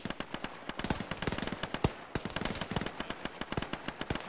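Machine gun fire in the military game Arma: rapid bursts of sharp shots, loud and close, with a brief pause midway before firing resumes.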